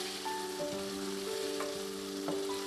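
Mutton karahi masala sizzling and frying steadily in a pan, with a continuous crackle, soft stirring scrapes and brief clinks over it, close and moderately quiet, with no talking.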